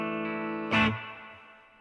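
Electric guitar, an ES-335 or Stratocaster, rings out through slapback echo and reverb in a home studio; a sustained chord swells briefly, then decays with trailing repeats and reverb tail, close and fairly quiet.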